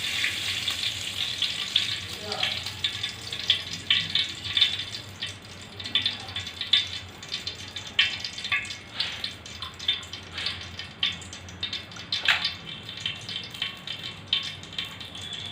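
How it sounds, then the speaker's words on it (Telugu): Ghee heats in a hot pot while cooking restaurant-style Mughlai chicken pulao, giving a steady, close crackling sizzle with quick popping spatters throughout. "గిన్నె వేడయ్యాక నెయ్యి వేసుకుందాము."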